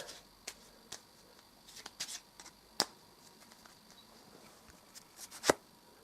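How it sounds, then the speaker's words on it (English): Cards from an Eldritch Horror board game deck are shuffled by hand, giving a series of sharp riffling snaps and light papery clicks spaced irregularly over quiet background, close and soft. "Going to shuffle those up."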